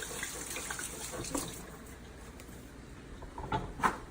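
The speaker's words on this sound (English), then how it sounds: "Wash our hands with soap." Hands being washed with soap under a running kitchen tap, a steady stream of water splashing into the sink with a few louder splashes near the end, no talking.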